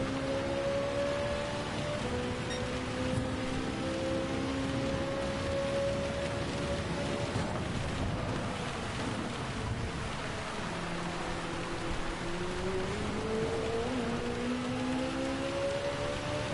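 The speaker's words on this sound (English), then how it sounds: "And now the rain returns." Rain falling at the Red Bull Ring in a racing video game: a steady wash of rain noise fills the whole stretch, with drawn-out engine tones gliding up and down beneath it and no talking.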